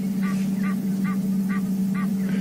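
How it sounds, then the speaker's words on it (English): An Egyptian goose gives an alarm call in the African bush, five evenly spaced honks repeating at a steady pace, fairly distant, over a constant engine drone from a safari vehicle. "We can hear an Egyptian goose."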